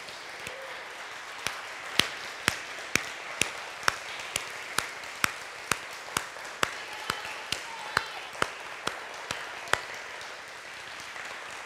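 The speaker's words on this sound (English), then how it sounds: "If you all would join me in giving him a round of applause" Slow, evenly spaced single claps ring out one after another at a Sunday church service, a steady rhythm of sharp hand strikes over a faint hushed room background.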